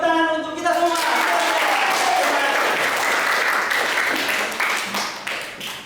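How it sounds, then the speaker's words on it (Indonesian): A junior high class applauds together in a classroom lesson, with loud, dense clapping that follows a brief voice and tapers off toward the end. "Oke, tepuk tangan untuk kita semua."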